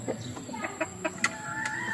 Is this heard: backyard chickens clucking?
yes